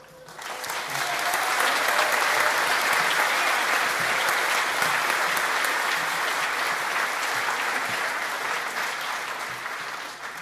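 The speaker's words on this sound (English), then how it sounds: "Some excellent cheering, great whooping as well." Graduation ceremony audience for art, design and digital arts graduates applauding loudly and steadily, a dense sustained wash of clapping with cheers and whoops mixed in throughout.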